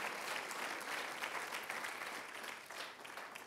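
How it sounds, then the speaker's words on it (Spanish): A church congregation applauds during a sermon, a dense, even burst of many hands clapping that continues steadily for a few seconds at moderate distance with no voices on top. "alguien aplauda si entiende."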